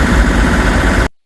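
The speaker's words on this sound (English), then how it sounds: "just going on the engine at the moment" A sailboat's engine runs steadily while cruising at a sedate pace, a loud, constant droning rumble that cuts off abruptly at the end.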